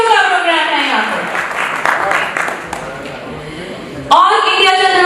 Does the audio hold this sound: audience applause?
yes